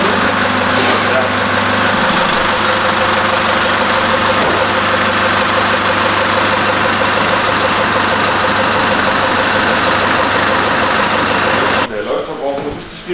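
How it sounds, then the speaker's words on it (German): An old taxi car's engine idles steadily and loudly up close with a rough, clattering diesel-like rumble, running without a break until it is cut off near the end. "Der läuft aber auch so richtig wie so ein, wie so ein alter Diesel."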